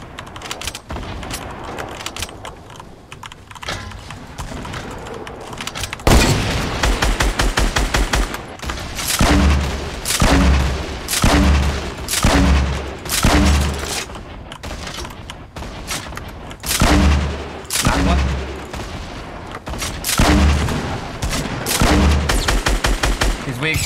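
Rapid gunfire and explosions in the video game Fortnite during a tournament match, as dense bursts of shots and booming blasts continue throughout at high volume.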